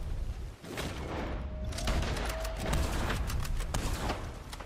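Gunshots in a video game ring out as a steady barrage of loud, close firing and impacts layered over dense action noise, with a brief dip near the start.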